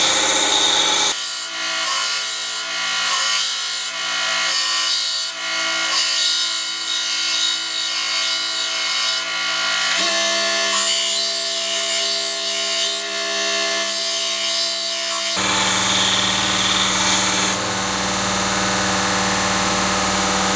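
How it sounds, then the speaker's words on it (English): A grinder thins an eighth-inch-thick blade for a left-handed hook knife, giving a loud, continuous abrasive grind that shifts in pitch as the blade is worked against it. "While I'm grinding this,"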